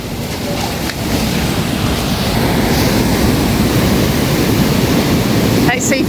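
Ocean waves and surf in the Maldives at Pasta Point near Cinnamon Dhonveli make a steady, loud, broadband wash with wind buffeting the microphone throughout, and a brief voice near the end.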